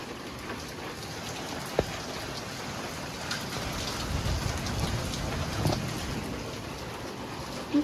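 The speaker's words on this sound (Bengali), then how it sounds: "এখন শিল পড়া বন্ধ, এখন বৃষ্টি হচ্ছে" Steady rain pours down just after a hailstorm, with a dense, continuous hiss, a few sharper drips and thuds standing out; no voices.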